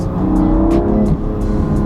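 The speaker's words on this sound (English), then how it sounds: "So the Valvetronic exhaust is definitely working and doing its thing." A BMW M2 Competition with Valvetronic exhaust in Sport Plus mode gives a loud, close, continuous engine drone with a brief dip and crackling pops near the end, heard alone.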